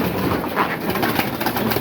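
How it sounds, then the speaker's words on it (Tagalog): Pigeons, hens and cocks, gathered at feed, their soft cooing and shuffling mixed into a noisy, murmuring background over a brief stretch. "Ito na sila mga kalapatids."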